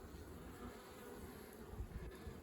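Honey bees crawl over a hive frame of capped brood with young bees emerging, giving a steady, close, low droning buzz that holds evenly throughout with no voices.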